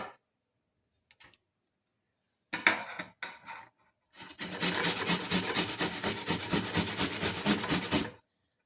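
A tomato is grated by hand: a few scattered scrapes, then a run of steady, rhythmic rasping strokes for several seconds, close and alone without talk.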